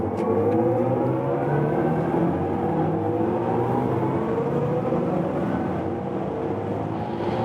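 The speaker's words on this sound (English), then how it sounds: "let's now accelerate from 110 kilometers an hour" A BMW iX M60 electric car accelerating from 110 km/h gives a steady, loud whirring drone with rising tonal whine and road and wind rush, continuous throughout with no speech.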